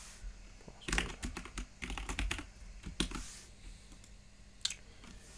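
Rapid bursts of computer keyboard typing while login details are entered, clustered clicks with short pauses, close and fairly quiet, no talking.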